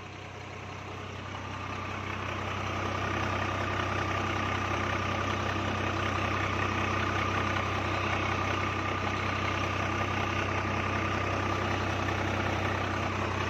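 A tractor engine idles steadily at close range, a constant low droning hum with a faint tonal whine above it, swelling slightly over the first seconds and then holding level throughout with no talk.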